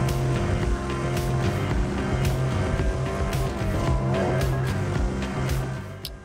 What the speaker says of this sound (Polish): jak dla mnie to jest świetny samochód